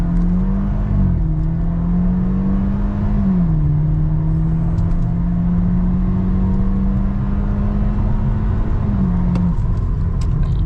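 A BMW F30 sedan fitted with a Euro Arts aftermarket exhaust accelerates, its steady, loud engine drone rising and holding pitch with brief dips at gear changes, continuous and close without any talking.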